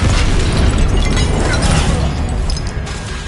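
A Confringo blasting spell detonates in Hogwarts Legacy during a troll fight, a loud, rumbling explosive burst that fills the whole moment and fades slightly at the end.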